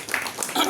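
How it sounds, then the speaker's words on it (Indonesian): A panel discussion audience applauds, a short burst of scattered, moderately loud clapping with some voices mixed in. "Kita berikan tepuk tangan sekali lagi"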